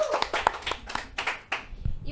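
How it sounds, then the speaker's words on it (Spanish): Applause in a Spanish-language talk-show studio: a short burst of sharp, uneven hand claps, fairly close, with voices speaking over it. "les pido por favor desde casa que nos brinden un fuerte aplauso"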